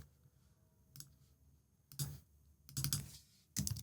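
A computer mouse is clicked rapidly three times, crisp close clicks in a quick burst, alongside a few other sharp desk clicks and no voices.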